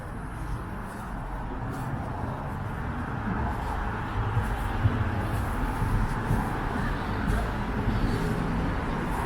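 Steady roar of downtown Toronto street traffic on Richmond Street on a bitterly cold, windy day, engines and tyres blending into a continuous broadband rumble with no clear voices.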